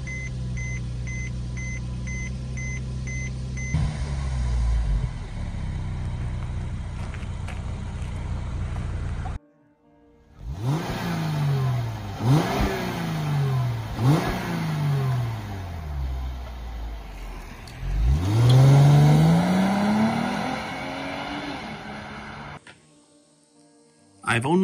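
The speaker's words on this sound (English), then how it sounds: "let's get the video started with the startup of my Mercedes E350." A Mercedes-Benz E350 4Matic Sport starts up with a brief electronic chime, a short silence, then the engine cranks and fires, revving up and down several times before settling, with a person talking over it.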